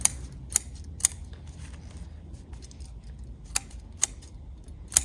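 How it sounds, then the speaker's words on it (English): Inexpensive root pruning scissors snip through bonsai roots during repotting, giving sharp, isolated clicks spaced irregularly, about seven cuts, close and crisp over a quiet background. "I'm using root pruning scissors here"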